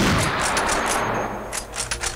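A .50-calibre sniper rifle fires in the Unreal Infiltration game, a single loud close blast at the start that decays into a rumbling tail, with no talk.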